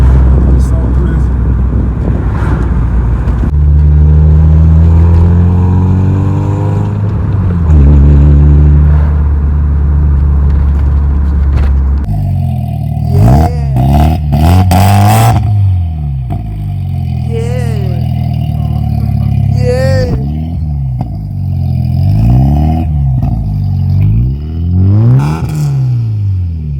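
A Volkswagen MK4 Bora with a newly installed exhaust revs hard and close, deep droning pulls rising and falling in pitch, then a series of sharp repeated revs and blips, with people talking in between.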